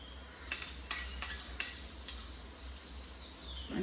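Split mustard seeds being stirred into hot oil for pickle, with a metal spoon scraping and clinking against the pan several times over a low steady sizzle, fairly close.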